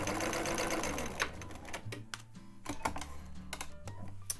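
A sewing machine stitches knit fabric in fast mechanical bursts, its rattling whir running steadily at first, then pausing and restarting in short runs of clicking and thumping, close and fairly loud.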